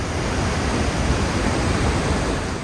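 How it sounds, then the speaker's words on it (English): Massive, tall waterfalls in Wyoming make a steady, loud broadband roar of rushing water that holds constant throughout, with no voices. "these waterfalls are massive and tall"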